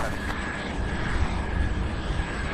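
A cargo airplane is pushed back at Louisville's SDF airport while a steady, loud engine roar and whine fill the air, with a thin high tone running throughout.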